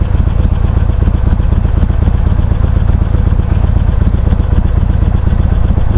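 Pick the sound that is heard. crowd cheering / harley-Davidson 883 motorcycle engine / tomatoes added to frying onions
harley-Davidson 883 motorcycle engine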